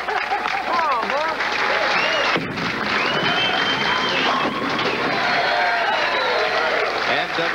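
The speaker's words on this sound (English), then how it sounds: "Parker Bohn the third receives welcome applause" Crowd applause and cheering fill a bowling center in Taylor, Michigan, at a 1998 PBA tournament, welcoming pro bowler Parker Bohn III: loud, steady clapping that runs the whole stretch, with a brief dip partway through.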